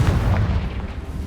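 A Confringo blasting spell in Hogwarts Legacy detonates as a dense, low, rumbling boom that carries steadily through its short span, loud and close.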